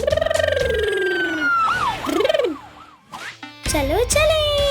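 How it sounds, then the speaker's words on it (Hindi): An ambulance siren wails in rising and falling sweeps, loud and close, with a short quieter gap before it resumes at full strength. "एम्बुलेंस।"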